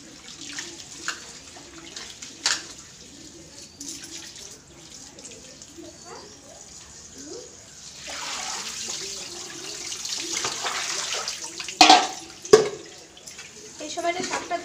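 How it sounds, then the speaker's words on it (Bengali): Tap water runs into a sink while leafy greens are washed by hand, the splashing swelling louder in the second half with a few sharp clatters, as someone talks over it. "শাকটা ভালো করে ধুয়ে নেওয়া যায় আর কি"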